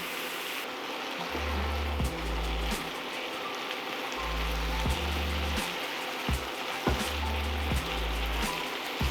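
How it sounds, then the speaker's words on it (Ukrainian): Constant sizzling crackle of meat searing over high heat in a pan, a dense hiss with scattered pops, close and steady with a low hum underneath. "Його потрібно обсмажити до гарної скоринки"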